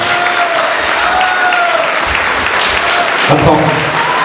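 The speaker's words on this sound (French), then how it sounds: "je vous merci pour l'applaudissement" Applause from an audience at the opening of an evening event in Geneva, a dense steady clatter of clapping that fills the whole stretch, with faint voices and whistle-like tones mixed in and a louder burst near the end.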